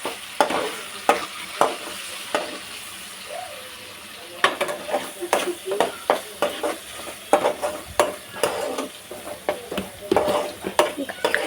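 Something with turmeric fries in a pan under a quiet sizzle, with repeated close scraping stir strokes and clicks in an irregular rhythm. Sound comes in bursts with short pauses between them.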